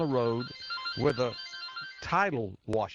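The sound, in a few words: phone ringtone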